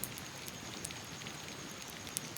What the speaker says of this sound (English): the rain is nice too